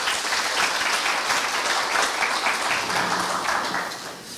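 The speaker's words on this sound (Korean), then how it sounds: "박수 주시죠." Dense applause from a concert audience at a university traditional Korean music performance, a loud, continuous wash of clapping that eases off near the end.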